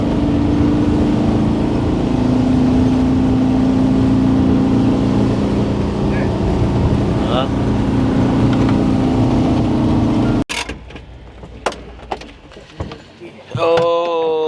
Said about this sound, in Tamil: புரோகா ஹில்லாம் தாண்டி இன்னும் உள்ளுக்கு மேடு ஏறுது பாருங்க வண்டி